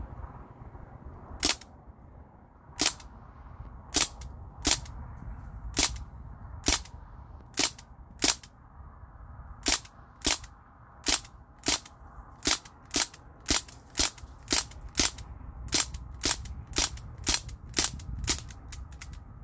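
A Crosman DPMS SBR CO2 BB rifle fired semi-automatically, heard as about twenty-five sharp, close cracks at a fairly steady pace, each shot distinct over a low background hum, with no talking.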